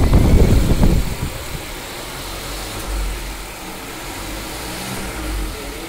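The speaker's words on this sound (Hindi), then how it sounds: "हमने गाड़ी को चालू किया है, आपको रेस करके दिखाते हैं।" A Mercedes CLA 200 car engine after a full service: a loud rev at the start falls back to a steady idle hum, with a faint swell in the middle, and no voices.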